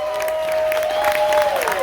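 A cruise ship show audience aboard Carnival Panorama applauds and cheers in a dense, continuous wash of clapping. A sustained tone and a nearby voice sit over the crowd noise.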